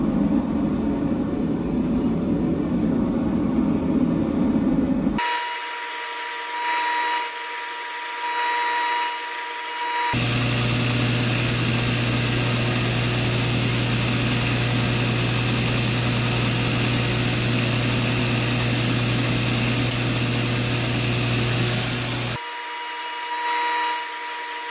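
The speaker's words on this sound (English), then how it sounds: "Then I'm going to use the wheel, try to grind in these bevels." Belt grinder wheel grinding bevels into a heat-treated handmade karambit blade: a loud, sustained abrasive whine running for long stretches, with quieter motor hum in the pauses between passes.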